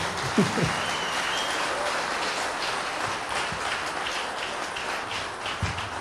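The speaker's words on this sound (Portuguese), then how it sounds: "A gente vai dar salve de palmas ao Senhor Jesus." Congregation applauding during a church sermon, a steady wash of many hands clapping at even loudness throughout, with no voices over it.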